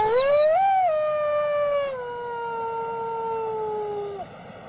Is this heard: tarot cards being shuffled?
no